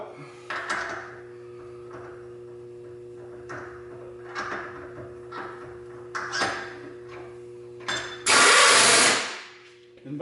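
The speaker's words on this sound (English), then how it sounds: "Dropping the drill chuck out." A milling machine hums steadily while several light knocks and clunks sound as its power drawbar releases the drill chuck, then a loud burst of pneumatic air hisses for about a second.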